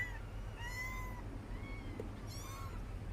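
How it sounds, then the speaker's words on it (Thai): Kittens meow several times, thin high-pitched cries spaced out over a low, steady background hum. "ตอนนี้ ลูกแมวนะครับ ก็ได้เจอแม่แล้วแม่สายฝนนะครับ"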